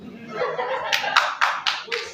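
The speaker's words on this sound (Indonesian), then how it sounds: "Ya tepuk tangan dulu" A short burst of hand clapping from an audience at an outreach meeting, several sharp claps over a murmur of voices and light laughter.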